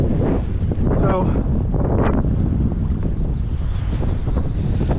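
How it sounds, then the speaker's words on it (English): Wind gusting across open saltwater during inshore kayak fishing, a constant rumbling buffet on the microphone with faint water movement, under a voice. "because that wind."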